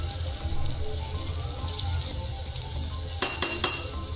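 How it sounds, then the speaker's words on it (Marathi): Chopped onion fries in hot oil until brown for chicken biryani, giving a steady close sizzle throughout, with a few sharp clinks of a utensil against the pan near the end. "ब्राऊन होईपर्यंत थोडा कांदा फ्राय करून घेते"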